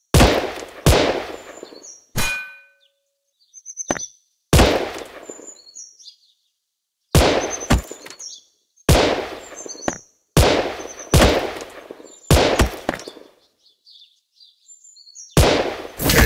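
Gunshots in the mobile shooter Gun Sprint: loud, sharp single reports spaced a second or two apart, each with a short bright ring and pickup chimes, separated by near-silent gaps.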